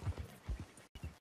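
Horse hooves clip-clop in the Red Dead Redemption 2 video game, a few heavy low thuds in an uneven walking rhythm, fairly close, with a brief gap near the end.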